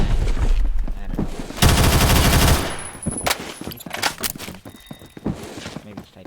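X95 SMG in the shooter Phantom Forces fires a rapid, close, sustained burst of about a second, surrounded by scattered single shots, footsteps and game noise, with someone talking over parts of it.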